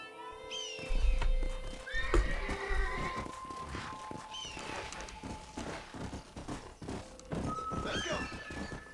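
Horse in Red Dead Redemption whinnying several times with clip-clopping hooves and thumps, fairly close and prominent, with other game sounds mixed in.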